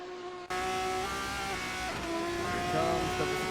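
A Formula 3 race car at Silverstone in a racing video game whines past with a high, harmonic engine note that rises and then drops in pitch as it goes by, steady and fairly loud.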